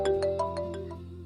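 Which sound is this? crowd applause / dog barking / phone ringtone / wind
phone ringtone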